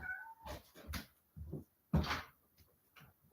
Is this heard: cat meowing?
yes